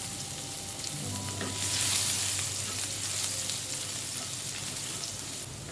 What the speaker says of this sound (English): Now let's fry these garlic pieces for a minute.